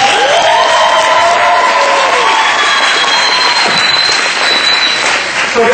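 Graduation audience applauding and cheering for the summer graduating class, loud sustained clapping mixed with whoops and shouts from a large crowd, steady for several seconds.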